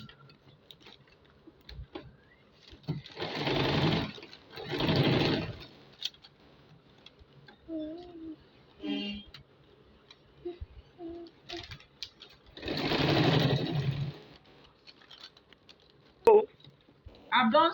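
A sewing machine stitches a funnel sleeve in two short runs of a few seconds each, separated by quiet handling clicks and small taps.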